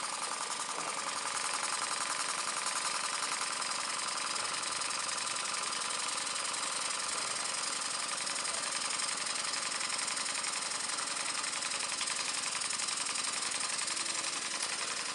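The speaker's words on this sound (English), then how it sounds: "you'll hear the engine speed pick up" A steam engine runs steadily with a dense, even mechanical chatter and hiss, constant in level throughout, fairly quiet and without voices.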